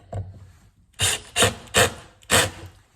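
A Dewalt Extreme 12V cordless driver set to clutch 7 sinks a screw into pressure treated pine: a short scrape, then four loud grinding bursts in a steady rhythm, close up with no talking.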